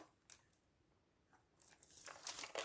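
Scissors snip through the loose end of a ribbon after a knot is tied on a small handmade paper folio, a few quiet crisp cuts and rustles building toward the end, close and faint.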